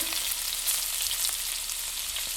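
Cumin seeds crackle in a spoonful of smoking-hot oil, a steady close-up frying hiss with fine popping throughout and no voices.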